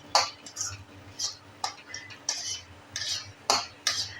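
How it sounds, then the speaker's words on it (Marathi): Sesame and poppy seeds roasting dry in a pan for goda masala, giving off a run of sharp, bright crackles and pops in irregular bursts, with soft stirring scrapes in between. "तीळ चांगले भाजायचे, चटचट आवाज आला पाहिजे."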